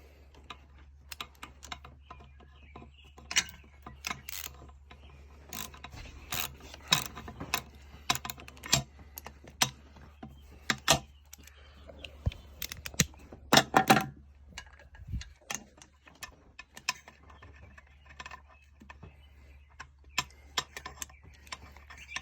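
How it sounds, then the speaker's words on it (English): A small hand ratchet clicks in short, irregular bursts while bolts are tightened on a 1980 Pontiac Firebird, the sharp ticks close and fairly quiet over a low steady hum. "I'm gonna grab my wee little ratchet"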